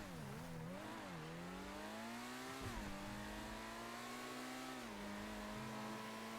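A fast car's engine in GTA 5 Online, revving and accelerating with rising and falling pitch as gears shift, loud and continuous with no talk.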